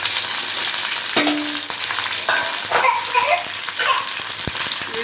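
Ginger pieces frying in hot oil, a steady close sizzle with small crackles and a few stirring clinks throughout.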